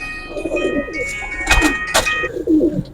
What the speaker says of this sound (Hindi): ये उस्ताद खान दिलावर साहब के बांके कबूतर हैं जी